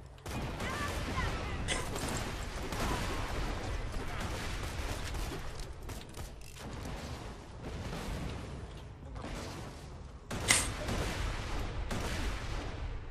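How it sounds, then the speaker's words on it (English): Grenades explode again and again in the video game Borderlands 2, a dense run of booming blasts and crackling gunfire-like bursts that continues without pause, with a louder burst near the end. "Jesus, are those your grenades?"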